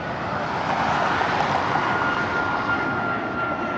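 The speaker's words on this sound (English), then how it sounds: "You can actually see the planes taking off." Airplane taking off from a runway near the Las Vegas Welcome Sign, a steady broad engine roar at moderate distance, loud and continuous with no talk over it.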